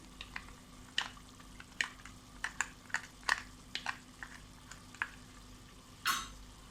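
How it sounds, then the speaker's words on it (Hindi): Stirring almond paste into beef korma in a pan, giving soft wet scrapes and light sizzles at close range, scattered irregularly through the stretch with no talk. "इस वक्त हम इसमें मिक्स करेंगे हमारा ये आलमंड का पेस्ट"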